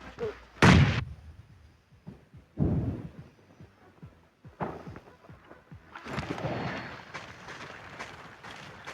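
Bomb explosions in PUBG Mobile go off as several heavy, booming blasts spaced a second or two apart, each with a rumbling tail, followed by a longer burst of rattling, crackling impacts near the end.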